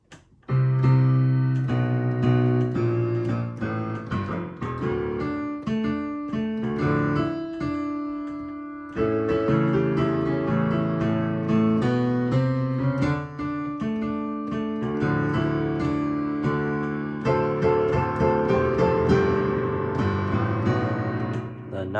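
A piano plays a melody in octaves, a steady run of sustained chords and notes with one brief pause near the middle, close and fairly loud throughout.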